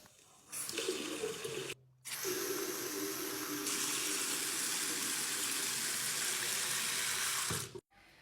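Water runs hard from a tap into a sink to flush the drain pipes after unclogging, a close, steady gushing roar that starts after a short pause, cuts off briefly, then runs on evenly before stopping.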